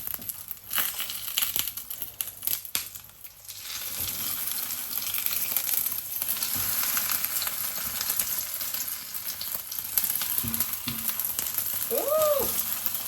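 Scrambled egg frying in a pan, a close continuous sizzle with crackles and occasional scraping clicks, a short squeaky tone near the end.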